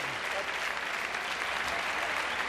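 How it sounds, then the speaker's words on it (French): Studio audience applause on a French TV variety show, a dense, steady roar of many clapping hands filling the whole clip with no speech over it. "Ah, et j'applaudis, et j'applaudis."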